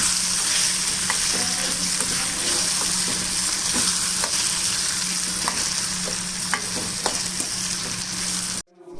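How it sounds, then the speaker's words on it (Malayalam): Fried anchovies being stirred into sautéed masala in a pan, a steady loud sizzle and fry with occasional scraping stir clicks, continuous and close. "എല്ലാം നന്നായി വേവിച്ച് വഴറ്റിയ ശേഷം നേരത്തെ തയ്യാറാക്കിയ ഫ്രൈ ഇതിലോട്ട് ആഡ് ചെയ്യുക."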